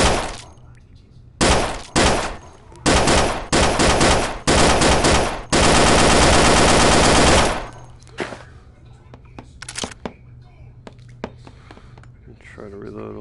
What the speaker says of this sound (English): So this is the Bren. You shoot through this sight that's angled on the